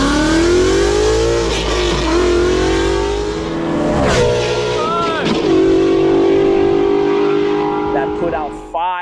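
A Shelby GT500's 5.2-liter flat-plane-crank V8 engine revs loudly and repeatedly, its pitch climbing and dropping through gear changes, close up and unbroken.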